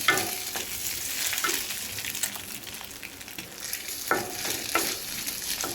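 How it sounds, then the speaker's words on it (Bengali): A spice paste sizzles and fries steadily in a hot pan, with occasional scraping strokes from a spatula stirring it. "আমি মশলাটা হচ্ছে একদম কষায় নিচ্ছি"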